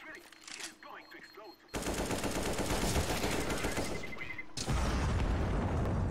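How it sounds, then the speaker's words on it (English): Loud bursts of gunfire and explosive blasts in a tactical shooter video game, starting after a quieter stretch and continuing as dense, sustained booms with a second surge near the end. "Explosion."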